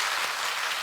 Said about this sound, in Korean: 우리 다시 한번 우리 하나님 앞에 큰 박수 영광 올려드리겠습니다